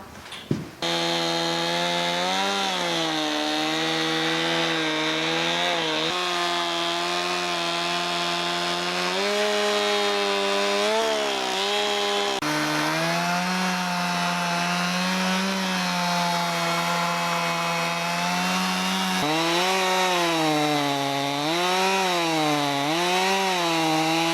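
A chainsaw fitted with a bolted-on milling guide along its bar cuts a cedar mantle, its engine droning loud and steady with small pitch dips and rises as the cut goes on, alone without talk.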